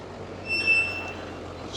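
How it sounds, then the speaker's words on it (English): Old Fastrac tractor carrying stone in a field, its brakes letting out a sharp high squeal for about half a second over a low engine hum. "Squeaky brakes on the old fast track."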